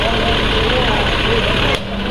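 Tractors idle and rumble as they are driven away after a Diwali puja, a loud continuous low engine drone that dips briefly near the end, with speech over it.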